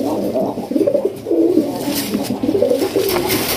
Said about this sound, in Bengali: দেখেন প্রচুর ডাকে কবুতর ভাই, প্রচুর।